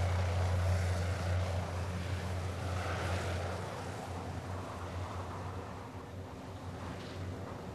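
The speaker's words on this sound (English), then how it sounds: "he flies 50 miles away to drop fuel for Kazama's motorbike expedition" A small plane in Antarctica flies off over a mountain, its propeller drone loud at first with a low steady hum, then gradually receding and fading into distant wind-like rumble, with no talk.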